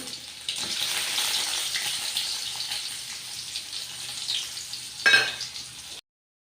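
Garlic and dry chillies sizzling in hot oil for a tempering, a fairly close crackling hiss with a brief louder burst near the end before it cuts off.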